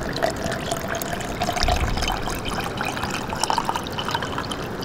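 Water pours steadily into a pouch of powdery MRE chicken, a continuous close trickling and splashing with small gurgles, no one speaking.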